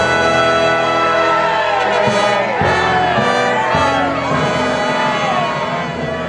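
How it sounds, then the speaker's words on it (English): Crowd cheering and calling blessings for the king, a continuous loud swell of voices, whoops and shouts, with a musical score playing over it. "The crowd calls blessings on your head."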